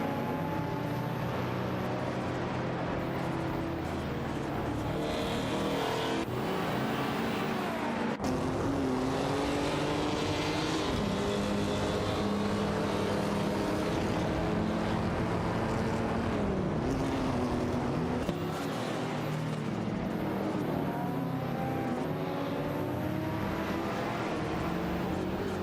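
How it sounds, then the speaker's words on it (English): Race cars roaring around a track in an AI-driven racing video game, including a Nissan Skyline GTR R32, with engines droning and shifting pitch continuously and loudly throughout. "is locked in a close battle with Bot Krejci, who is piloting a Nissan Skyline GTR R32"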